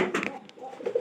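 Pigeon tucked inside a pile of straw, giving a short, soft cooing call close by, a few low murmuring notes in about a second.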